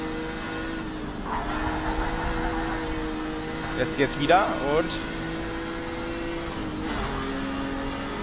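A race car engine in Project CARS 3 drones steadily, revving and shifting gears with quick pitch changes midway, under someone talking throughout.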